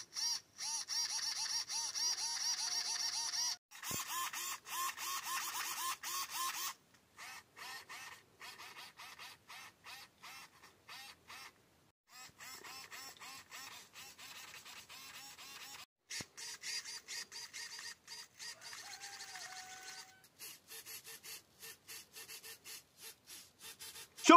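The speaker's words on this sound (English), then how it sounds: "I'm going to use a servo tester and a small battery, and then we are going to listen how they sound." Several RC servos driven one after another by a servo tester on a small battery: bursts of buzzing, grinding gear whir separated by short gaps, close and quiet, with occasional pitch sweeps and no talking.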